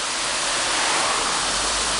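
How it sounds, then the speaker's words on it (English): The Cale waterfall in the Cale Valley near Wincanton, a steady, dense rush of falling water heard close up with no other sounds. "So now just passing through Wincanton, I'm in the Cale Valley, and here's the Cale waterfall."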